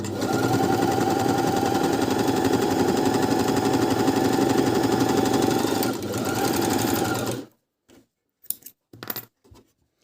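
A Minerva M2000C coverstitch machine runs steadily over fleece in a fast, continuous whirring drone for about seven seconds, then stops abruptly, leaving only a few scattered clicks and handling sounds.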